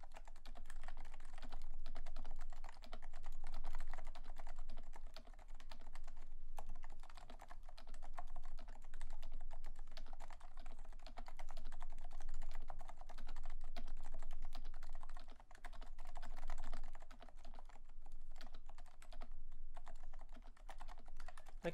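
Fast, steady typing on a Leopold FC660C silent-version Topre keyboard, a dense, even patter of muted keystrokes running continuously and close up with no talk.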